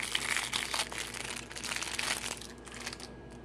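Crinkly plastic packaging rustles and crackles continuously as a small funnel for a skin tag removal kit is unwrapped up close, the noise easing slightly toward the end.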